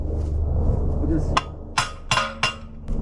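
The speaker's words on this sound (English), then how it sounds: "I always use a rubber mallet because if you use a metal hammer, you just Ding that all up" A rubber mallet strikes log dogs on a sawmill holding a log steady, four dull, solid thumps in quick succession over a steady background hum.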